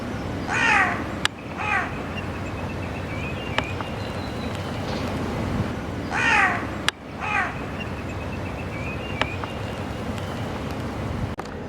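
Crows giving harsh repeated caws in short bursts of several calls, heard twice with quiet gaps between, moderately close over a soft outdoor background.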